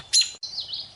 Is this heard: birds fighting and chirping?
yes